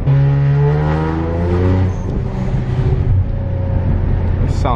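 An Infiniti Q60 with a flame-tune exhaust revs loudly and close by, its engine note climbing and falling with a deep, throaty rumble as people talk over it.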